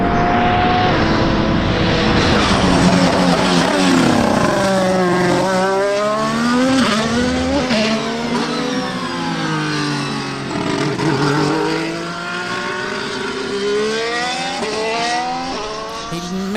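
A Lego race car at the 2021 Emilia-Romagna Grand Prix rejoins the track: a loud, close engine note rises and falls in sweeping revs over about sixteen seconds, with no talking.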